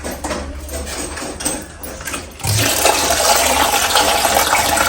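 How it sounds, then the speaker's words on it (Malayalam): Boiled water being poured off chana dal into a sink, a steady loud rush of draining liquid starting about halfway through after quieter kitchen sounds. "നല്ലോണം തിളച്ചു. ഈ വെള്ളം കളയും,"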